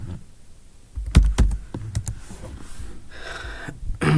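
Keys on a computer keyboard tap in an uneven burst of sharp clicks, close and fairly loud, with short pauses between strokes and no talking.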